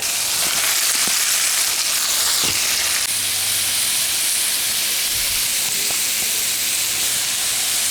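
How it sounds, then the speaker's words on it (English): Spiralized zucchini fries in a pan with a little olive oil and pepper, giving a steady, close hiss and sizzle that runs the whole time with no talking. "I'm cooking my zucchini, which I've spiralized, a little olive oil and some pepper."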